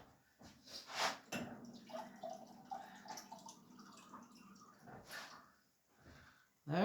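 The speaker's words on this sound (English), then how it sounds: "Now I'm going to get me some water." Tap water runs in a home kitchen while winter stew is being made, heard as faint splashing bursts mixed with soft clatter and handling noises.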